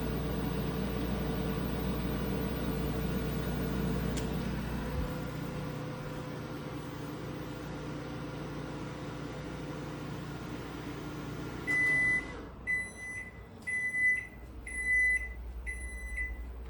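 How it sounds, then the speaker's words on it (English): A microwave oven heating a glass of water hums steadily for about twelve seconds, then goes quiet and gives a series of five short, clear beeps as it finishes. "let's test out the microwave with some water at 77 degrees Fahrenheit, 25 degrees Celsius."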